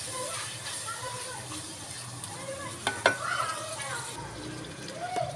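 Tomatoes sizzle steadily in a pan with garlic and ginger, a soft continuous frying hiss with occasional stirring clinks, while someone talks over it.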